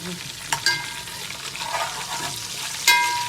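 Ginger and onion frying in a pot, a moderate close sizzle punctuated by a few clanks and scrapes of a spoon stirring, with one louder knock near the end.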